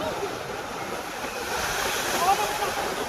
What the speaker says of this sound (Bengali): উত্তাল সমুদ্রে